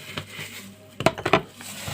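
Onions being tossed with salt and pepper in a baking tray for a chicken dish, a few quick close clattering scrapes of a utensil against the tray.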